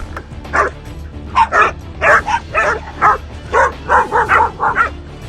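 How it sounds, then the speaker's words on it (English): Hunting dogs trained to track and hold wild boar bark and yip in a rapid, uneven series of sharp calls. The barking is loud and close, over a low background rumble. "These dogs are meticulously trained to track the scent of wild boar, warn the hunters, and hold the boars without attacking them."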